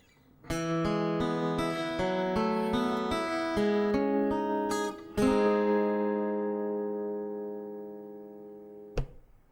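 An electric guitar plays a short single-note melodic line, the final note left ringing and fading, followed by one brief pluck.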